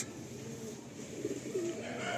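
Lalbon pigeons, a red fancy breed, cooing softly in a loft, low rounded calls rising near the end amid quiet background noise.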